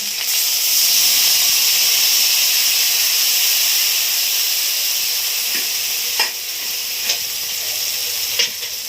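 Water with turmeric comes to a boil in a cooking pot, giving a steady close hiss and bubbling rush. A few soft knocks and taps sound near the end.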